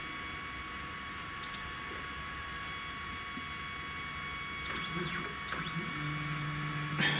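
A 3018 desktop CNC router carving at 1000 mm per minute, its steady spindle whine and motor hum running continuously with rising and falling stepper tones from the axis moves near the end.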